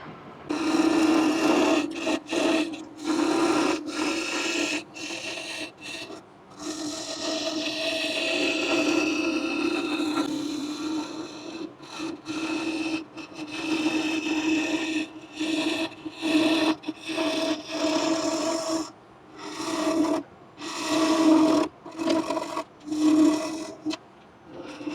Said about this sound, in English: There's a lot of scraping right here.